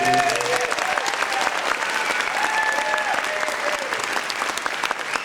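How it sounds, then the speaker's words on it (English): Sustained applause from a children's theatre audience at an "Annie" show, thick continuous clapping at an even level, with a few voices and a brief tonal sound near the start. "Can I have one more round of applause for all these wonderful people?"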